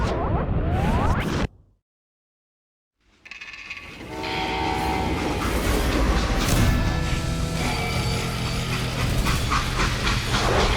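A freight train rumbles and clatters along with a horn sounding, loud and close, after a brief silence near the start, in the video game Call of Juarez: Gunslinger.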